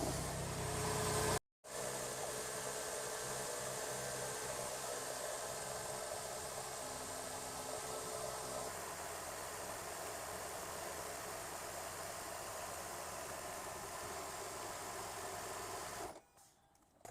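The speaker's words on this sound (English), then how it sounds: "Just put my foot on the accelerator and the engine went on. Now we just have to let the engine warm up." A Toyota Highlander Hybrid's 3MZ V6 idles while warming up after service, a faint steady engine hum with a low vibration, broken by a brief dropout near the start and fading at the end.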